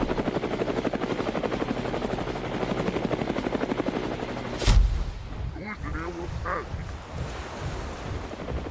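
A Halo: Reach aircraft thunders overhead with a steady, loud rotor-like pulsing, then cuts off abruptly with a sharp impact, leaving a softer rushing wash with scattered voices.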